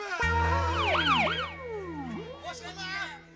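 An ambulance siren in a comic stage performance wails loud and near, its rising and falling tones sweeping repeatedly before fading slightly, with a steady low hum beneath.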